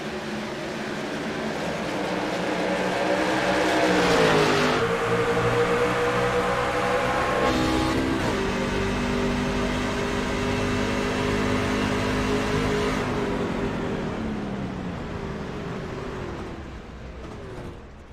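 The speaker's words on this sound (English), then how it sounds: "for sure inside that engine, that V8 was not happy" A V8 race truck engine at Michigan International Speedway roars loudly and continuously for the whole stretch, its pitch rising and dipping as it hesitates and recovers, with no talk over it.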